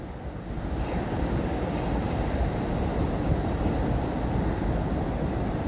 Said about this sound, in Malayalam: ചെമ്പിരിക്ക ബീച്ച് ഭാഗത്ത് രണ്ട് മുഖമാണെന്നുള്ളത് കടലിന് ഒന്ന് സോഫ്റ്റ് ഒന്ന് ഹാർഡ് ആ ഹാർഡാണ് ഇപ്പോൾ നിങ്ങൾ കണ്ടുകൊണ്ടിരിക്കുന്നത്